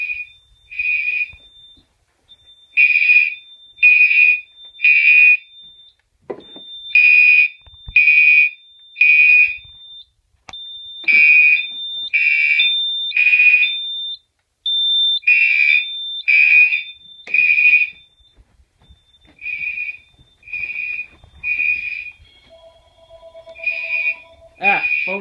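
A home security system alarm sounds in repeated groups of three loud, shrill electronic beeps separated by short gaps, running on and off throughout, with a few faint clicks and a brief phone tone near the end.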